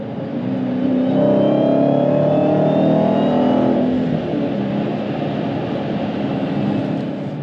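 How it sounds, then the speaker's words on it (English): A Dodge Challenger Hellcat with a V8 and manual gearbox revs up during a rev match, a loud, close engine note that rises and holds and then settles to a steady drone. "Get a little rev match. Ooh, gotta love that rev match."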